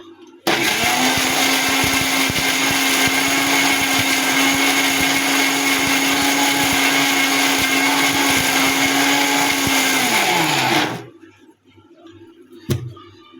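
An electric blender grinds spices such as ginger, garlic and onion for home cooking. It whirs loud and close at a steady pitch for about ten seconds, then winds down and stops, followed by a brief knock.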